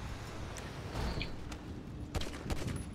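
In GTA V Online, faint bursts of gunfire sound off in quick irregular volleys, sharp cracks standing out over a low steady game background with no talk.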